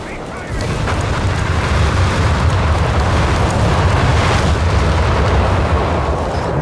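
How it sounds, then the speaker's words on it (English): Carpet bombing run in the strategy game Company of Heroes 3, a dense continuous roar of overlapping explosions and rumbling blasts that swells after a brief quieter start and stays loud throughout. "here comes the carpet bombs."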